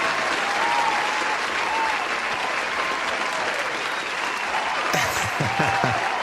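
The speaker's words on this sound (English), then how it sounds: "Let's give an applause to Terry." Dense, steady applause rolls through a live trading stream greeting a viewer, with a short burst of voice or noise near the end.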